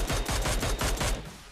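Rapid bursts of automatic gunfire ring out in PUBG Mobile, about seven loud, evenly spaced shots in quick succession, close and punchy, with no talking.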